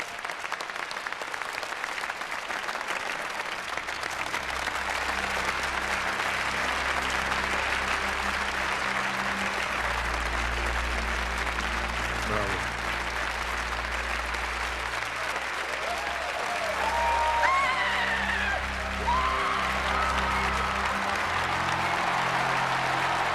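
Sustained applause from a crowd after a chess match between Bobby Fischer and Boris Spassky rolls on for over twenty seconds, with a low tonal hum underneath.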